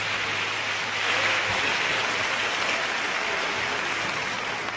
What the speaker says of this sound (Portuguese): Eu gostaria que você também aplaudisse ao Senhor pela vida dos servos de Deus